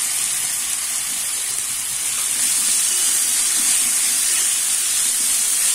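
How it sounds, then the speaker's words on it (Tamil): Chopped tomato sautéing in a pan for roadside-style chicken salna gives a continuous loud hiss of steam and sizzle close by, steady for several seconds with no talking. "இப்போ ஒரு பெரிய தக்காளி கட் பண்ணி வச்சிருக்கேன்,"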